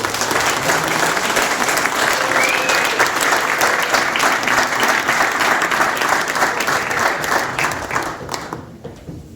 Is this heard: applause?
yes